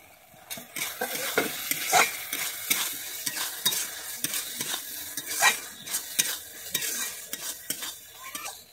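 Fried onion and tomato are stirred into an egg masala in a pan, with a steady sizzle under repeated scraping and clinking of a spoon against metal, loud and close with no talking.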